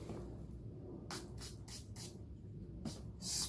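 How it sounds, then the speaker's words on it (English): Rose setting spray is misted onto a makeup brush in several quick, faint bursts, a soft hissing pump repeated four or five times in a quiet room. "I'm going to get my rose spray, coat the brush, and then"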